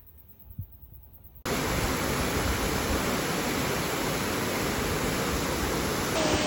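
Rainbow Falls waterfall in Kerikeri, New Zealand: after a quiet moment a steady, loud broadband roar of falling water starts abruptly and continues unbroken.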